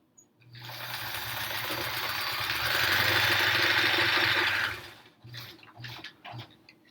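Sewing machine stitching rows of a Triangle Tango quilt, a steady close motor whir that builds and runs for about four seconds before stopping, followed by a few short bursts of stitching.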